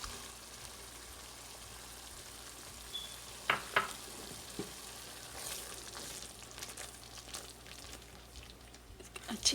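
Cream poured over fried masala and cooking for shahi paneer, a low continuous sizzle broken by a few clattering stirs of a spoon midway and a rising bubbling toward the end, with no speech.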